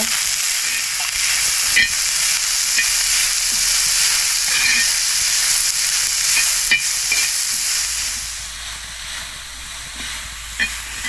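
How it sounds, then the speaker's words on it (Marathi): Chopped onion and garlic fry in oil over a wood-fired stove, a steady loud hiss of sizzling with occasional sharp clicks from stirring, continuing nearly unbroken throughout. "आणि आता आपल्याला हा कांदा भाजायचा आहे आणि लसूण पण कांद्यात थोडंसं तेल टाकायचं"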